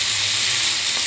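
Steady loud sizzling and hissing from a veg curry dosa frying on a hot pan, a continuous close crackle with no pauses and no talking.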